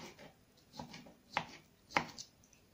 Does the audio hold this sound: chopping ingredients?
yes